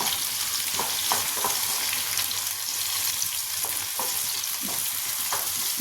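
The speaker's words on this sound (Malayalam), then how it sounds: "ഇതൊന്ന് കൊച്ചുള്ളി ഒന്ന് ബ്രൗൺ കളർ ആവുന്ന വരെ ഒന്ന് വഴറ്റി കൊടുക്കാം." Small onions (shallots) sautéing in a pan for a brinjal and potato curry, giving a steady, close sizzle with soft stirring scrapes and no voices.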